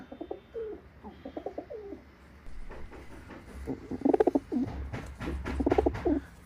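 Several pigeons coo in low, throaty bursts, with soft rustling and fluttering in between, moderately close.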